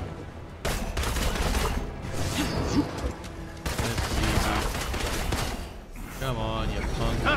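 Rapid gunfire bursts and blasts from the Marvel's Avengers action game, loud and dense, with breaks between volleys and combat voices shouting over the shooting.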